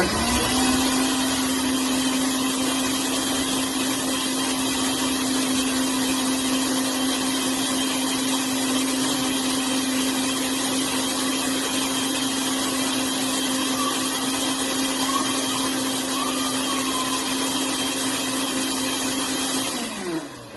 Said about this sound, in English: As usual, blender makes noise.